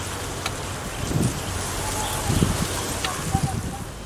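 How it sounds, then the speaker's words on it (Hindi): Continuous rain during heavy monsoon flooding in Rajasthan makes a dense, steady hiss, with a few low rumbling swells rising and falling under the wash of falling water. "और बारिश लगातार"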